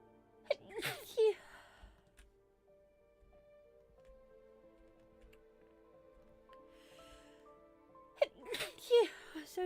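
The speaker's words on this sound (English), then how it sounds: "I'm going to sneeze." Two sneezes about eight seconds apart, each a sharp burst with a breathy intake, close and fairly loud, separated by a stretch of quiet room sound while someone plays Minecraft.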